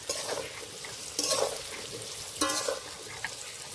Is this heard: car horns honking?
no